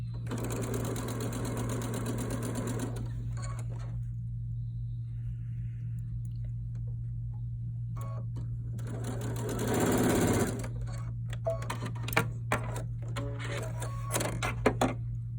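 A sewing machine stitches two quarter-inch seams on holly-print fabric for a table runner, heard as close, rapid mechanical stitching in bursts separated by pauses, with a low steady hum underneath.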